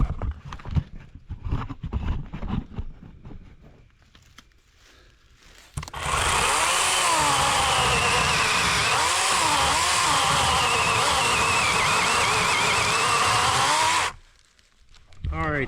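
A Worx 40-volt cordless chainsaw cuts into a roughly 12-inch red oak, a loud steady whine with wavering pitch held for about eight seconds, preceded by quieter handling noises and some talk.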